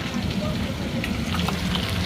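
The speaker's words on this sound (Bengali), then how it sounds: "মাছ ভাজাও চালু।" Small fish frying in hot oil for a raw-mango sour fish dish, a steady dense sizzle and crackle that runs continuously through the whole clip.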